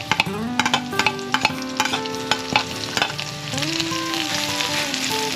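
Onions sizzle steadily in a hot pan for creamy chicken curry, with a series of close spatula scrapes and taps as they are stirred, and the sizzle growing fuller near the end.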